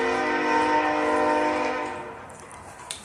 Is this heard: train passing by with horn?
yes